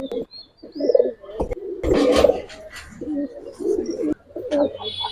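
A pair of Giribaj pigeons coos in repeated low, warbling phrases up close, broken midway by a brief loud burst of flapping or handling noise.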